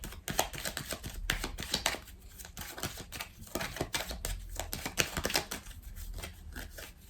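Tarot-style cards being laid down and covered during a card reading, a close, busy series of papery slaps, flicks and shuffling rustles in quick irregular bursts, with no talk.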